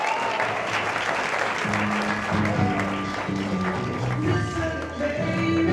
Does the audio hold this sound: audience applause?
yes